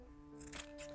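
Scissors snip the corners of a sewn knit fabric sock piece, giving a short, quiet cut near the middle of a calm moment, close by and isolated.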